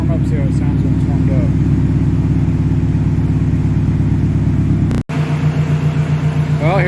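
Exhaust of a turbocharged 500 whp Mazda Miata at idle after a cold start, a loud, close, pulsing burble with a sharp cut and a short rev at the end, while someone talks over it.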